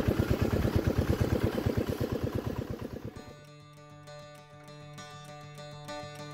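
A bhotbhoti motor boat engine chugs in a fast, steady rhythm on the way to Gangasagar, close and loud at first, then cutting off into a quiet stretch with a faint tonal hum.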